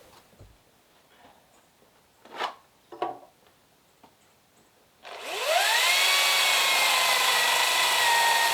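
A power tool cuts a wooden door seal to length in an off-grid earthbag workshop, starting with a few quiet knocks and scrapes before a loud, steady whining cut runs continuously for the last few seconds.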